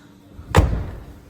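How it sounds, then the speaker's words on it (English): A single loud, close slam as the door of a new Lada car is shut at a dealership, a sharp thud followed by a short low rumble, with no talk. "Let's close this door. It's gonna sound like a G-Wagon."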